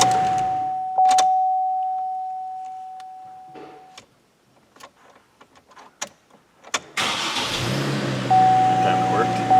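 A Chevrolet Trailblazer with a no-start, no-crank fault: a steady electronic whine and a few faint clicks, then the engine cranks and catches abruptly and settles into a loud, close idle.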